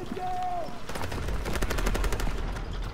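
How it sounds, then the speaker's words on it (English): Gunfire in the video game Call of Duty WWII, rapid bursts of automatic shots in a fast rhythmic series, close and loud, with a brief tone before the shooting starts. "I just shoot until I hit something"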